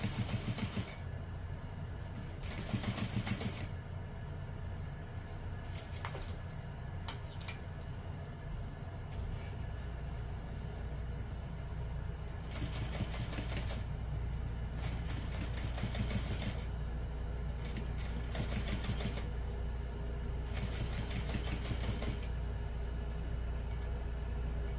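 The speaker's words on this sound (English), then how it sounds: "we're going to sew the open side closed" A sewing machine runs a long basting stitch along the open side of a small handbag, a steady mechanical whirring with rhythmic needle clatter in several close, loud bursts separated by short pauses.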